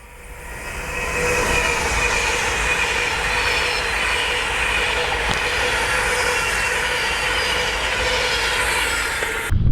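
A Pendolino train rushes past at close range beside a canal, a loud steady roar of wheels and carriages that swells in and holds for several seconds.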